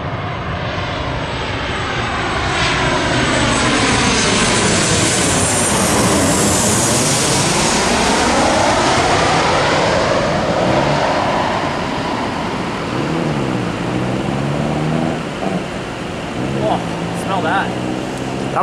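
A fixed-wing aircraft roars in low overhead and touches down hard at night, its loud engine sweeping past with a rising then falling pitch. It stays close and dominant throughout.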